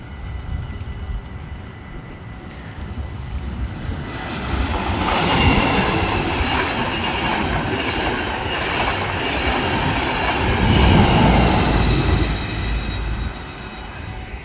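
NS 186 locomotive-hauled trains pass through Oisterwijk station in the Netherlands, a loud continuous rumble of wheels on rails with rising roar and squeal as cars roll by close, swelling near the middle and again toward the end.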